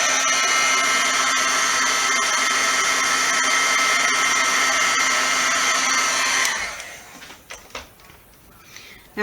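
A heat tool blows a loud, steady whooshing roar while melting embossing powder on a handmade card, then cuts off abruptly, leaving a few faint handling sounds.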